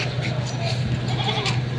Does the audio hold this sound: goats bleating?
yes